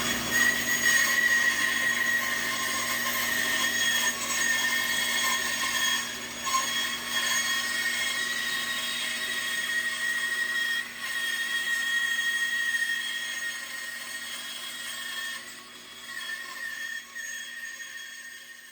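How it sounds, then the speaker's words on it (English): A running bandsaw cuts through a wooden stadium seat part with a steady high whine and a sustained rough cutting roar, close and loud, easing slightly near the end. "I got the bandsaw running. We'll get the other one done. Same thing, just going to cut it a little bit."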